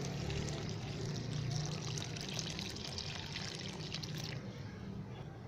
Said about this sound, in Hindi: अब हम थोड़ा सा पानी ऐड करेंगे।